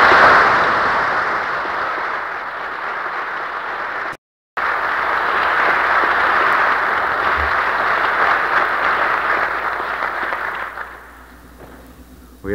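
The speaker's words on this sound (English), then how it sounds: "I think for that you should applaud." An audience at Westminster Choir College bursts into loud, sustained applause at an announcement, the clapping cutting out briefly, resuming and then fading toward the end.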